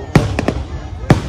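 Fireworks burst over Hai Phong at Vietnamese New Year's Eve for the 2020 Year of the Rat: four sharp, loud bangs in an uneven rhythm over a steady background roar, with voices in the crowd.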